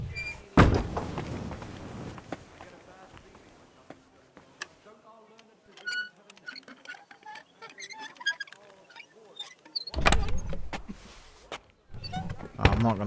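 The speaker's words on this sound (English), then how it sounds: "Okay, let me shut this door." A door shuts with a solid thud inside the medieval video game Kingdom Come: Deliverance II, a sharp knock-and-slam near the start, then quiet game ambience before more clattering thumps toward the end.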